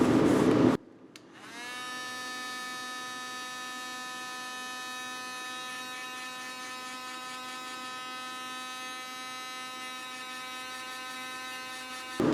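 A heat gun shrinks heat-shrink tubing over wires during a remote start install on a 2004 Tahoe, giving a steady, close electric whine with a constant buzzing drone that runs alone for about ten seconds after a brief click.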